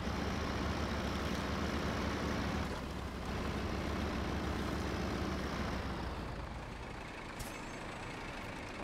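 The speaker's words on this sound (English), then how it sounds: "Come on, truck, turn, will ya?" A heavy truck in the SnowRunner video game runs with a loud, steady engine drone while it strains to turn around, the rumble continuous throughout with a slight dip midway.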